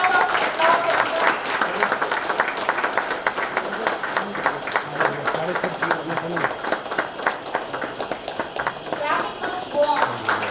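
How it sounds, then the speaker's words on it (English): Audience applause at a STEM club inauguration event, brisk and continuous clapping from a gathered crowd, fairly loud and close, with some talk mixed in beneath it. "A big round of applause."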